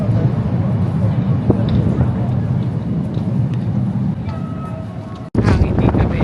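Wind gusts outdoors in Portugal, buffeting the microphone with a loud, continuous low roar. The roar dips briefly and cuts out sharply near the end, then resumes.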